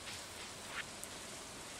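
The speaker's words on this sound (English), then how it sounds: "Luckily, it's raining, though." Steady, faint rain hisses evenly in Stardew Valley, a soft continuous patter with no voices.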